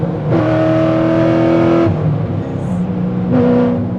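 A loud, close engine of a nitrous-equipped, naturally aspirated 800-horsepower Corvette revs up hard and holds, drops back briefly, then revs again with a deep, throaty roar.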